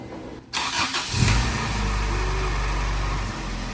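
A modified Acura Integra LS with a swapped B18C engine and Mugen Twinloop exhaust cranks briefly and catches, then settles into a steady, smooth idle, heard up close with no talking.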